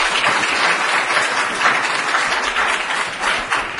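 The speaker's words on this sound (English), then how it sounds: "If we could not clap after everybody talks, this would get through a lot faster." Audience applause fills a city council meeting room, a dense, steady round of clapping from many people lasting several seconds, close and loud, with no speech over it.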